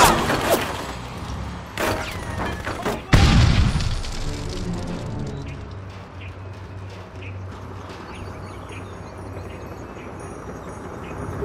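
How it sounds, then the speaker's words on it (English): A grenade goes off in Full Spectrum Warrior, a sharp, loud boom with a rumbling tail, preceded by a couple of shorter blasts or shots, then fading into low battlefield ambience. "Grenade out!"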